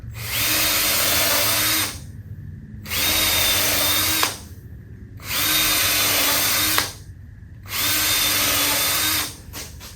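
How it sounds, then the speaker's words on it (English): Four long bursts of a power drill driving screws into a large wooden pedestal table base, each lasting about two seconds and separated by brief pauses, loud and close. "Now we're gonna add a ton of screws just to make sure this doesn't go anywhere."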